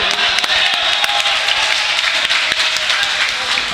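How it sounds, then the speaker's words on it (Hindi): Dense, steady audience applause at a mushaira in Dewas, a crowd clapping continuously and loudly with a few sharper individual claps standing out. "एक बार ताली जोर से देना चाहिए।"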